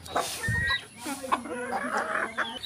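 A rooster clucks and murmurs in short, broken calls, fairly close, with faint farmyard noise behind it and no talking.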